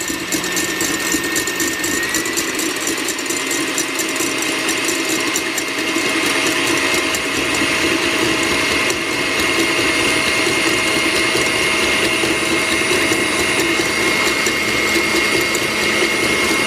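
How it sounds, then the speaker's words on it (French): Egg whites are beaten with syrup heated to 110 degrees into meringue for an apricot tart, an electric mixer whirring steadily and loudly with a geared mechanical drone the whole way through, no voices over it. "Et je continue de fouetter jusqu'à complet refroidissement."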